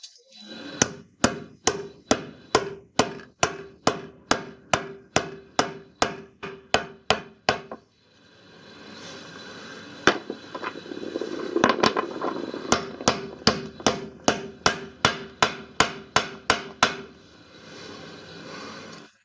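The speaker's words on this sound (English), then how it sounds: "Using a drift of the appropriate diameter, gently tap the bearing into place" A washing machine drum bearing is tapped into place with a drift, producing sharp, evenly spaced metallic knocks in two long runs separated by a brief pause, close and loud with no talk.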